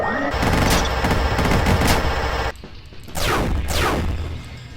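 A gatling gun fires in the video game Dungreed as a dense, loud rattling burst for about two and a half seconds, then briefly stops before another burst with sweeping tones.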